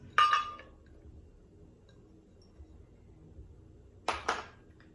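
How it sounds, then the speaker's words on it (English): Frozen papaya, pineapple and blueberries dropped into a blender jar make two short bursts of clinking and rattling, one at the start and one near the end, separated by near silence. "Now I'm going to add the papaya and pineapple, frozen blueberries"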